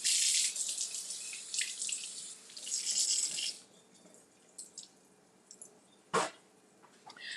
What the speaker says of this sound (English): So I have some blueberries here. I'm going to rinse them.